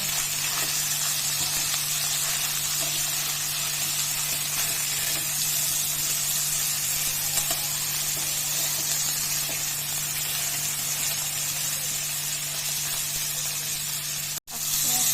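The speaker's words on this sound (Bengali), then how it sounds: "তেল গরম হয়ে যাওয়াতে হালকা করে ভাজবো হালকা করে ভেজে" Small fish fry in hot oil with a steady, fairly loud hiss and spatter that runs unbroken for the whole stretch and stops abruptly near the end. No one speaks.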